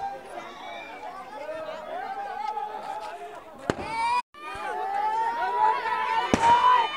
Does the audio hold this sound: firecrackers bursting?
yes